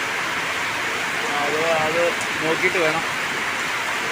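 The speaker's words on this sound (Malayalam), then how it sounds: "രാത്രി മുഴുവൻ മഴ പെയ്താൽ നമുക്ക് ഉറങ്ങാനുള്ള സൗകര്യമൊന്നും ഇവിടെ ഇല്ല." Steady rain pours down at night during a cycling trip, a constant hiss of falling water close by while someone speaks briefly over it.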